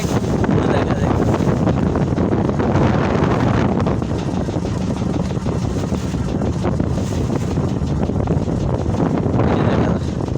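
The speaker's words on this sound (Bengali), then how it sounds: "বাতাস।" Wind buffets a small boat out in the middle of the Meghna river, a constant loud, rough rushing that rumbles across the microphone without a break.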